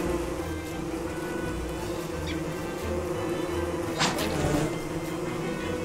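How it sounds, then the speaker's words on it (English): Killer bees buzz in the survival video game Don't Starve, a steady, droning hum over a low ambient game background, with a brief louder burst near the end. "Let me guess, killer bees?"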